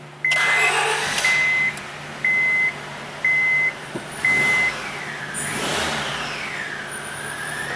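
A Honda Civic under compression-test diagnosis cranks through a series of five evenly spaced beeping tones, then the engine catches and rises into a rough, revving start before easing off.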